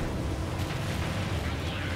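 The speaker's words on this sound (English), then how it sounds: "I saw an explosion behind him." A cannonball explosion in the video game Monster Hunter 3 Ultimate gives a dense, rumbling boom that fills the whole short stretch at a steady level.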